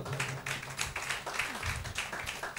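Churchgoers clap together, a dense run of fairly quiet, uneven claps that continues throughout.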